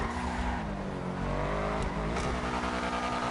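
A car in GTA 5 Online drives and drifts, its engine revving loud and close with rising and falling pitch as the tires squeal through the slides, with no talk.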